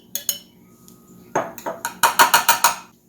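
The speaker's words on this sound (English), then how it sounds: "Stir that in until that is again well combined." A metal spoon stirs grated ginger into a lemon juice mixture, giving a few sharp clinks against the container, then a quick rhythmic series of five or six ringing taps, close and without speech.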